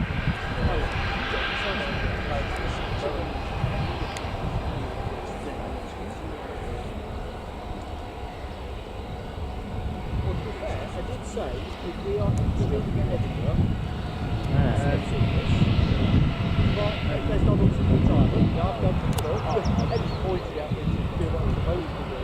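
Jet2 airliner engines starting up at Newcastle Airport, a steady broad roar that swells louder about halfway through, with people talking over it.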